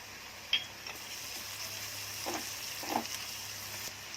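Garlic dropped into a pan of frying onions, a soft steady sizzle with a few brief stirring scrapes and clinks.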